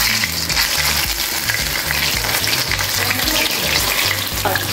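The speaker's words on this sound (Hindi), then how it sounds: "ये ऑयल गर्म ही है और इसमें अब हम पकौड़े डाल देते हैं" Mixed vegetable pakoras drop into hot oil and fry with a loud, dense, continuous sizzle and crackle, close up and steady throughout, with no voices.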